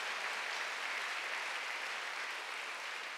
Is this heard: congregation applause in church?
yes